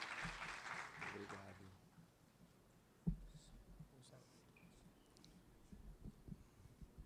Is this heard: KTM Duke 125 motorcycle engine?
no